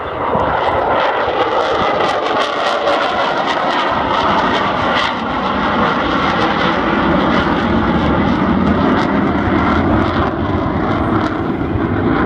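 Avro Vulcan powered by Rolls-Royce Olympus engines flying overhead at the Scottish Air Show 2015, a loud, continuous rumbling jet roar that holds steady and dense for the whole stretch with no voices over it.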